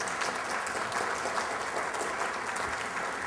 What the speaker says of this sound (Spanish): les pedimos un fuerte aplauso para el Presidium que vamos a presentar en este momento